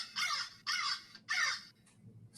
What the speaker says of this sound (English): my eyes were attracted to the immense flock of blackbirds that hovered directly below me